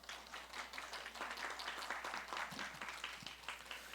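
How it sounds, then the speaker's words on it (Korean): A church congregation applauds during a worship service certificate presentation, giving a continuous, fairly faint wash of clapping from many hands that holds steady throughout, with no speech. "계속 박수 쳐주시면 됩니다."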